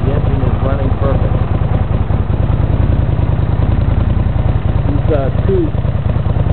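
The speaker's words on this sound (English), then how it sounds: "the engine is running perfect" A 1982 Honda GL500 motorcycle engine idles after a tune-up with a loud, steady, even rhythmic pulse and a light mechanical clatter, close up and running alone.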